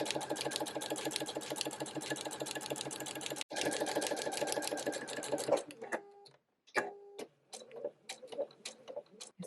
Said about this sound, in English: When I do the bottom, I'm gonna sew the foam into the seam binding.